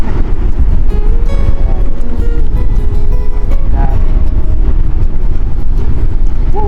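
Strong wind buffets the microphone in a loud, continuous roar with gusty low rumbling throughout, at Patapat Bridge, Ilocos Norte.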